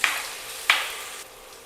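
Chopped large onions soften in a hot pan with a hissing sizzle, two quick stirring scrapes punctuating the steady frying noise.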